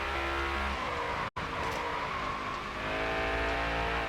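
Race car engine at New Hampshire, a steady loud drone with a brief cut as the driver shifts up into fifth gear, then the engine pulls on again at high revs.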